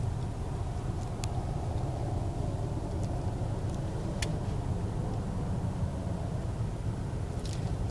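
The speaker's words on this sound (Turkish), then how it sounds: "Şimdi birinden kalk, giderken sadece debriyaj basıp ilk vites 2 alacaksın." A car with a manual gearbox pulls away in first gear during a driving lesson, heard from inside as a steady engine drone and road rumble with faint clicks, no talking over it.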